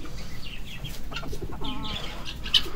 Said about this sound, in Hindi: हमारे नए मुर्गा मुर्गी ओहो गोल्डन बाफ ने खाना स्टार्ट कर दिए हैं।